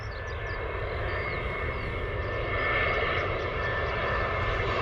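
An Airbus A320 airliner on approach into Bristol Airport roars steadily overhead, a broad continuous engine drone with a whining tone, swelling slightly louder partway through and holding close and strong throughout.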